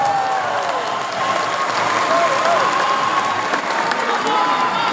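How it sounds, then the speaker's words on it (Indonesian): A large outdoor rally crowd claps steadily and continuously, a dense wash of applause with scattered cheers and whistles, loud and sustained throughout. "Tepuk tangan untuk para pejuang reformasi kita."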